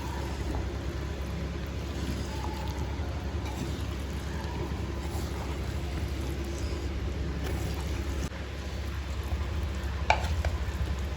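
Capsicum fried rice being stirred in a pot set down off the heat, a steady soft scraping and rustling of rice against the pot over a low continuous background hum, with no talking.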